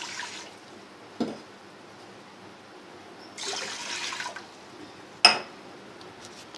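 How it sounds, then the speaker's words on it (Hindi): Two glasses of water poured into a cooking pot on a stove for spinach saag: a few short splashing, gushing bursts, one longer pour in the middle, against quiet kitchen background. "अब हम इसमें डालेंगे 2 गिलास पानी"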